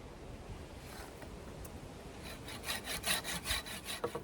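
Hand saw cutting sharp protruding bits off a piece of wood for a bushcraft table outdoors, starting as faint rasping then rising into a run of loud, regular back-and-forth strokes near the end.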